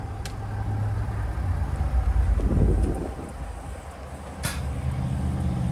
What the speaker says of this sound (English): you might have just heard the air suspension pop there